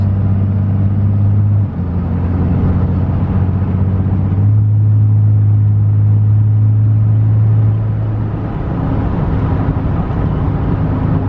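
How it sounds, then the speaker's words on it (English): A pickup truck diesel engine with its exhaust brake engaged drones low and loud while downshifting into fifth gear, a steady rumble that shifts pitch a few times as the gear changes. "Exhaust brakes on, downshift, it's in fifth."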